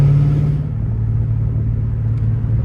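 A catless Dodge Hellcat Redeye driving through a residential area, a loud, deep exhaust rumble that is strongest at the start, then settles into a steady throaty drone.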